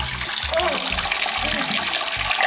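Water runs from an old single-handle faucet after being turned back on, a steady close hiss and splash that continues throughout, with low voices and bumps underneath.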